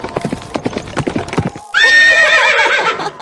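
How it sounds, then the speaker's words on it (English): Horse on a farm, first hooves clip-clopping in an uneven rhythm, then a loud, close neigh that carries on for over a second. "That's a stunning horse."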